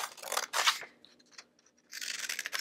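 Scissors snipping pictures out of a paper coupon book, close rasping cuts in two bursts with a short quiet pause between them, no voices over it.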